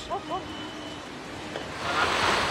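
Strong flash-flood current rushing through a flooded area and sweeping away cars. A brief voice comes first, then a steady broadband roar of water swells louder over a couple of seconds.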